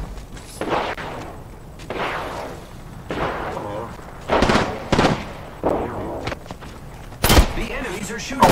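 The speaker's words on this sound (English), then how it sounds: "The enemies are shooting." Enemy gunfire in the Apex Legends battle royale game: a series of loud, sharp shots and impacts spaced roughly a second apart, some clustered, close, with voices talking over it.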